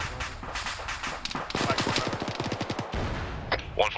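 A weapon fires in a quick burst during a platoon field training exercise, the sharp reports rapid and fairly close over steady background noise, with voices talking around it.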